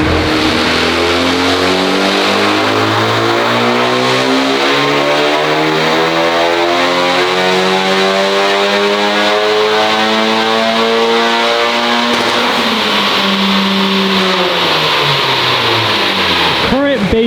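A Honda Civic Type R on a dyno, running pump gas, revs up in one long sweep that rises steadily in pitch to a loud, strained peak, then drops off sharply near the end.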